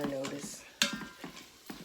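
Ground meat browns in an Instant Pot while a utensil scrapes and stirs along the bottom of the pot, giving faint sizzling under intermittent scraping and clinks, with a brief voice at the start.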